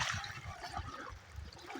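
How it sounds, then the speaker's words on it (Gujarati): Water poured out for a cow on a Gujarati farm, a soft splashing trickle with gurgling that runs quietly and unevenly throughout. "ગાય માતાને પાણી પાડી દીધું"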